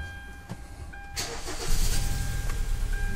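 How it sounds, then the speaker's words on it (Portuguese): A 2012 Hyundai Tucson engine cranks and catches after a moment of quiet, then settles into a loud, rough idle that stumbles unevenly as a cylinder misfires, up close with no talk. "Vamos dar a partida ver como é que tá o funcionamento do carro."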